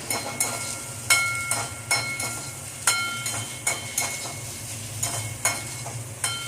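Chopped okra sizzles in hot oil in a pan over a medium flame, with a steady frying hiss broken by regular scraping and clinking strokes of a stirring spoon.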